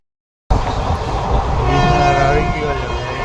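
A Porbandar-bound train at Rajkot railway station sounds a loud, sustained horn right after a sudden start, with rumbling rail noise underneath.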